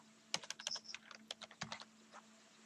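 Rapid, irregular typing on a computer keyboard while writing Java code in the Eclipse editor, a quick flurry of close, crisp key clicks alone over a faint steady hum.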